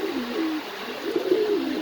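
Pigeons at a pigeon farm coo close by in low, rolling, throaty phrases, two soft bursts with a brief pause between, over a quiet background without speech.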